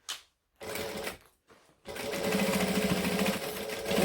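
A sewing machine stitches a bag seam in short bursts of rapid, close motor whirring and needle clatter, stopping and starting, then running steadily.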